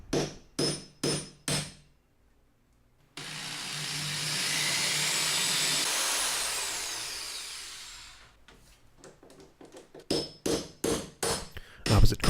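Screws are driven into the metal edge finish of an ITG2 dance pad replica: a few sharp taps, then one sustained whirring driver run lasting several seconds, followed by more quick knocks.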